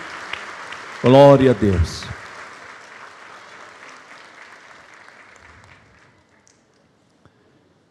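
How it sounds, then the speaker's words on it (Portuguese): A church congregation applauds a mission team, a short loud burst of clapping lasting about a second and fading into a murmuring crowd, with a voice speaking alongside. "dá uma salva de palmas aí"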